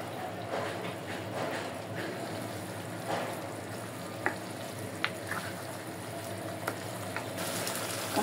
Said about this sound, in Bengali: সুন্দরভাবে কষাইছি 5 মিনিটের মতো। আর একটু কষাবো